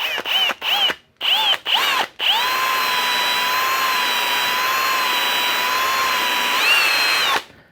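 A power drill spins a brass wire brush at a slow setting to clean out a small round hole such as a dowel pin hole, running in a few short bursts and then one steady whine of several seconds.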